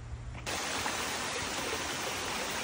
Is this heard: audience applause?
no